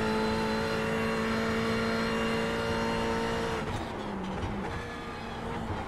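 A Ferrari GT3 race car, the 2019 GT3 R, runs in the iRacing simulator on the Bathurst circuit. The engine holds a steady loud drone, then shifts and changes pitch near the end, with no voices.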